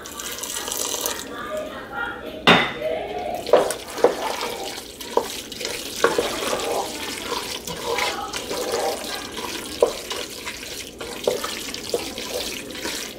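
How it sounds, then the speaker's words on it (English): Starchy pasta water poured into a cauliflower macaroni mixture in a kitchen, a close, uneven splashing pour with small clinks, mixed with kitchen noise. "I'm gonna add some of this starch water."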